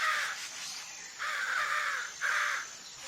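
Crows in an animated children's story give three harsh, drawn-out caws, loud and close, with short gaps between them and no speech over them.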